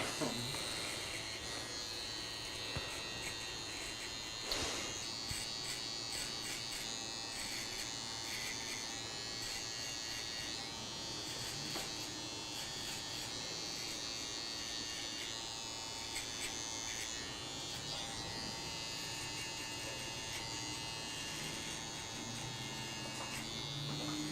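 An electric shaver removes stubble during a barbershop haircut, buzzing steadily and close by without a break for over twenty seconds.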